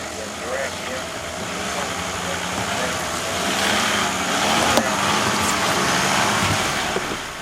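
Toyota Land Cruiser running a gymkhana course at a Land Cruiser Club event, its engine droning steadily and swelling slightly midway, with crowd chatter and a commentator's voice over the top throughout.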